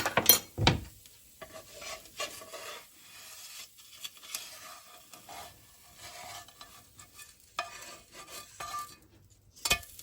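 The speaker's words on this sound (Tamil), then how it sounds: "பாருங்க எப்படி திருப்புறேன் நான் இந்த தோசையை" A dosa on a hot pan being turned with a spatula, giving a few sharp scrapes and taps over a quiet, intermittent sizzle.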